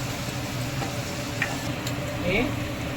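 Spices fry in hot oil in a pan while being stirred, giving a continuous low sizzle with soft scraping and a few light clicks from the spoon, no voices.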